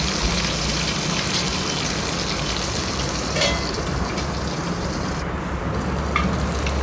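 Tomato sautés with fried onion and garlic in oil, producing a loud, even, continuous sizzle like steady rain that holds unchanged from start to finish, with a few faint clicks.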